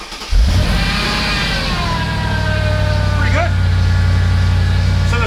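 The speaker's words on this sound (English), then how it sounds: "I think this car might start." A Mercedes SL55 AMG with a red battery warning light fires up after sitting unused for two years: a sudden crank and catch into a loud, deep idle that holds steady close by, with a brief chirping squeal partway through.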